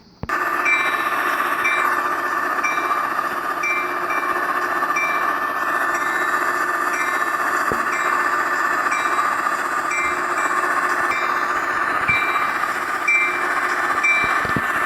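A Trainz game train bell rings steadily on a loop, its bright tone repeating evenly over a constant rail rumble with no pauses.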